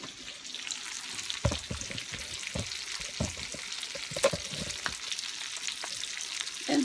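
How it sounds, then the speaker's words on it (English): Bacon frying in a pan for BLT sandwiches, a steady soft sizzle broken by scattered pops and clatters of utensils, heard up close with no talk. "And there be our bacon cooking."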